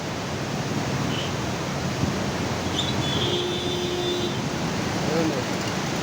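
River water rushes steadily through canal locks where the flow splits into four channels, a loud, even broadband roar filling the scene with no letup.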